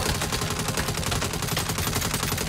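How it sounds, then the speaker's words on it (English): Sustained rapid turret gunfire in the Saints Row reboot video game, a dense, loud continuous burst of automatic shots filling the whole stretch with no talk over it. "You better shoot that turret like you shoot off your mouth!"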